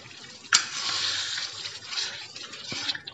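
A small bowl of water is poured into a pan of dum aloo cooking with methi and peas, making a close, steady splashing hiss that starts with a sharp splash and runs for a few seconds without any talk.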